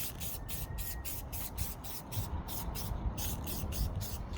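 An aerosol can sprays silver paint onto cleaned brake parts from a Jeep in a run of short hissing bursts, close and fairly quiet, with no talking.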